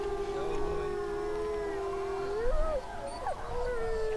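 A person imitates a wolf howl at a werewolf party game, a sustained wavering tone that bends upward near the end, heard up close over a murmur of room noise.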